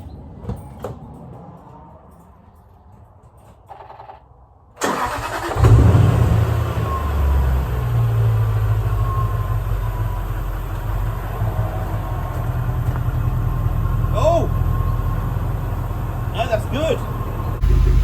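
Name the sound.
car engine starting and idling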